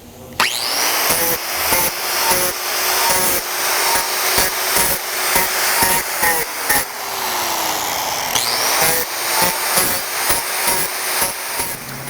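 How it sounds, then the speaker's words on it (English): An angle grinder cleaning mill scale off hot rolled steel, running as a loud continuous grinding whine with rhythmic pulses from passes over the metal and brief spin-up surges, nearby and steady throughout. "Now we're going to clean it up with the grinder. This is hot rolled steel, so it's got mill scale on it."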